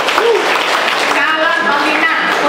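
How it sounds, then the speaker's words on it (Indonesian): Church congregation claps in a dense, sustained wash that fills the whole stretch, with voices and shouts mixed in over the steady patter. "Tepuk tangan dong."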